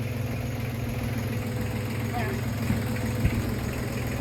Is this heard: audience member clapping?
no